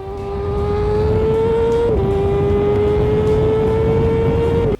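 A high-revving Honda Fireblade superbike engine holds a loud, steady howl, dipping briefly before climbing again, then cutting off abruptly at the end.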